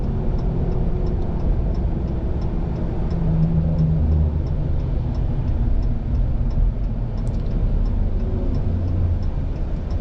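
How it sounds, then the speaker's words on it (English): Inside the cab of a 2020 Ram 1500 EcoDiesel with its 3-litre diesel, towing a Kubota in tow-haul mode and decelerating through downshifts, a steady low engine and road drone with a faint regular ticking throughout. "Make a deceleration here. Got it in tow haul. Getting good downshifts."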